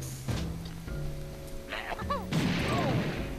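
A grenade blasts in Banjo Tooie, a sudden broadband boom that bursts out partway through over the game's tonal music and effects.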